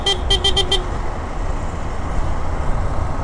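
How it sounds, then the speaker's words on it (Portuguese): A car horn honks in city traffic in Belém, a short burst of several quick toots near the start, then the engine and road rumble of traffic carries on beneath. "Tava buzinando, era pro carro aí, olhando, achando que era pra ele."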